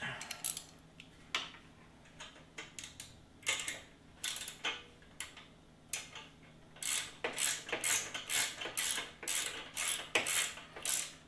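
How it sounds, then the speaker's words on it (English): A ratchet wrench clicks in quick, uneven bursts while loosening a screw on a Vance and Hines exhaust baffle, close and crisp, with short pauses between runs of ratcheting. "Let's get this started by hand here. So we have enough room for our ratchet."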